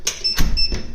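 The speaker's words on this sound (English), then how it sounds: "You could hear the door locked behind me when I closed that" Apartment door in Busan swinging shut with a solid thud, followed by a quick mechanical click and short electronic beeps of the lock engaging, close and brief.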